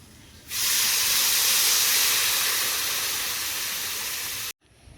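Water poured into a pan of vegetables frying with turmeric powder for a village-style paneer dish, setting off a loud, steady hiss of steam that starts suddenly, fades slowly over several seconds and cuts off abruptly.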